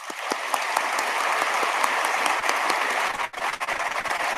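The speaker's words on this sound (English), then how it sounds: "Let's give them a round of applause." A graduation commencement audience breaks into sustained applause with individual claps standing out close by, dipping for a moment before picking back up.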